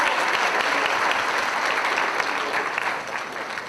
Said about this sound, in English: Everyone give her another round of applause.